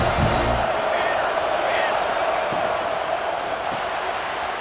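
Dense stadium crowd roar at a Notre Dame college football video game, a steady loud wash of cheering voices lasting throughout with no breaks.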